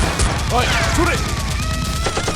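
Nerf blasters fire in a busy, noisy outdoor play battle, with rapid shots and clatter over constant background noise, plus brief shouts and voices mixed in.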